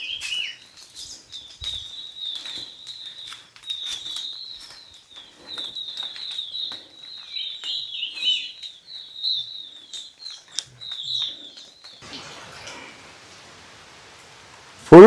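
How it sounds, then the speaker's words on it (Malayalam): Birdsong threads through a misty forest on a Kanthalloor trek, steady chirping calls running high and clear, with a faint patter of light drizzle in the background and a brief rustling burst near the end. "കിളികളുടെ ശബ്ദമൊക്കെ ആയിട്ട്"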